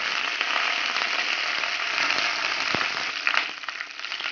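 Green chilies and curry leaves fry in a pan as they are stirred for a Kerala-style prawn curry, making a dense, hissing sizzle with faint crackles and a single soft knock, close up and with no speech.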